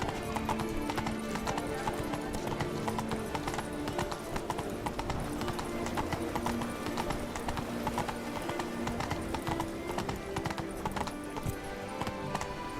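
Roach the horse gallops in The Witcher 3, a steady rapid clip-clop of hooves running continuously and loud throughout, with game ambience underneath.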